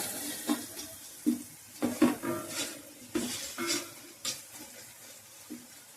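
Village-style spotted snakehead fish curry (matta gidasa pulusu) simmers in a pot, bubbling softly, with intermittent clinks and splashes close by and no talking.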